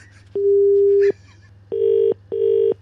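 Telephone tones ring out as a call is placed to a police constable: one long steady beep followed by two shorter beeps, clear and close over a low hum, with no talking.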